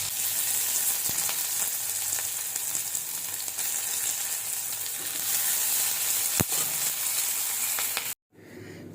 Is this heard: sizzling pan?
yes